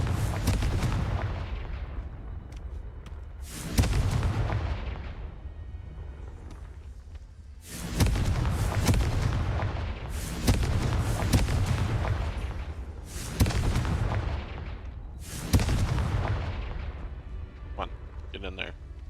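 Repeated Confringo blasting spell explosions in Hogwarts Legacy land as a series of about six heavy booms at irregular intervals, each with a rumbling tail, while a voice talks over the action.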